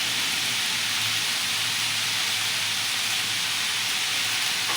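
Vegetables with cabbage stir-frying in a pan over a high flame for egg fried rice, giving a steady, loud broadband sizzle and hiss that holds evenly throughout with no talking.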